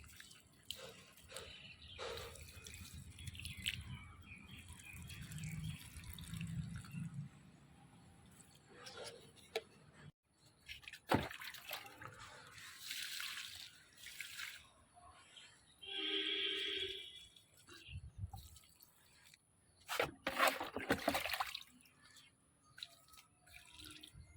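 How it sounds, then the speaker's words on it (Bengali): Water is poured slowly onto the soil of a winter seedling, giving faint trickles and drips in short bursts, with a voice talking at times. "তারপরে আস্তে আস্তে জলটা দিয়ে দিতে হবে"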